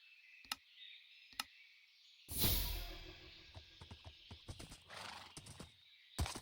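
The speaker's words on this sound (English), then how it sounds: "I suppose we could summon our horse and get the rest of the way." A summoned horse in the Minecraft modpack MC Eternal 2 gives a loud whinny, followed by scattered clip-clop hoof steps and a few sharp clicks against a quiet background.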